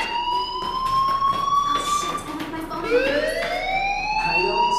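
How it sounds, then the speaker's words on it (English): A wailing alarm siren sounds in the Life is Strange video game, loud and close, with tones sweeping upward and holding steady. "do you hear that fire alarm?"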